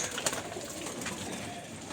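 Pigeons coo softly inside a flying loft, a faint, steady murmur of bird sounds with a brief brighter call near the start and no speech.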